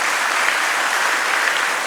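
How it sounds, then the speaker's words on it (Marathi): An audience at a student prize ceremony claps, a short, dense burst of steady applause that is loud and continuous throughout. "एकदा नागवेकर सरांसाठी जोरदार टाळ्या आपण देऊया."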